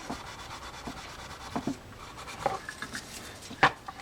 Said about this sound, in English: I think he's shining his posts up a little bit too with that steel wool